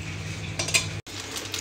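A metal pressure cooker gets its lid fitted on over a low flame in a home kitchen, giving a few short metallic clinks and scrapes, close by, with a brief break in the steady background hiss.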